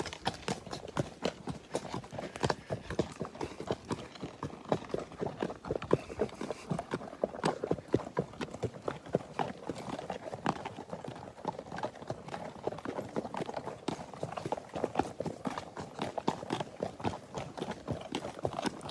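Horses moving briskly on a safari while tracking a lion, hooves clip-clopping in a fast, steady rhythm close by for a long stretch, with no talking.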